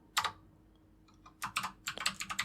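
Keys clatter on a computer keyboard: a short burst of keystrokes, a pause, then a quicker run of close, crisp taps in an otherwise quiet room.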